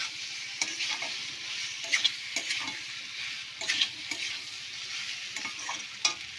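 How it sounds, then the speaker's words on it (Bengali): Fried taro pieces stirred into a sizzling spice masala in a pan, a continuous oily crackle punctuated by irregular spatula scrapes and clatters against the pan. "এবার দিয়ে দেবো ভাজা কচুগুলো।"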